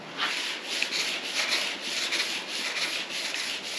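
Body filler on a 1954 Chevy 3100 truck being sanded with 320-grit sandpaper, a steady close scratchy rubbing in repeated back-and-forth strokes with no talk.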